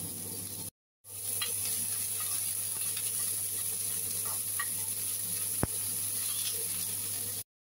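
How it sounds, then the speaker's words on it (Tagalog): Chopped onions fry in a pan with a steady, close sizzling hiss that runs almost without a break, interrupted by one sharp click partway through. "Mag-fry tayo ng na-chop na sibuyas."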